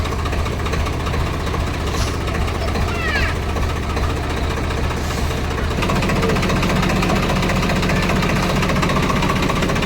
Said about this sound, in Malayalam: ട്രാക്ടർ ഓടിക്കാൻ പോകണോ?